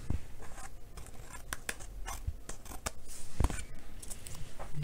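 Scissors trim excess paper strips off the back of a handmade card, giving a run of sharp, close snips spread across the clip with no talking.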